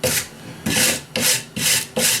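A wire brush scrubs cut-to-length wooden parts in five long, even rasping strokes, close and loud, each stroke separated by a short pause.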